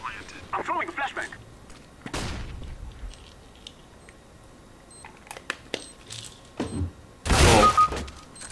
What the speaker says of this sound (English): I'm throwing a flashbang.